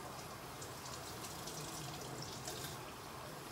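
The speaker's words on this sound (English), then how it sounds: "And I'm filling it up with water." Tap water running into a can while cooking a sauce, a steady close gushing stream with no talking.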